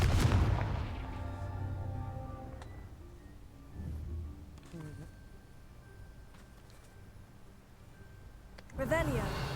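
Confringo fire spells cast in Hogwarts Legacy, a few muffled booming blasts spaced apart beneath game music and ambience, with a sharper burst near the end.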